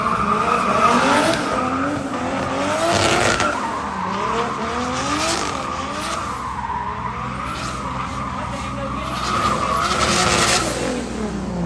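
A Toyota Aristo drift car slides at a drift event, its tires squealing in long wavering howls over a steady engine roar, loud and continuous throughout.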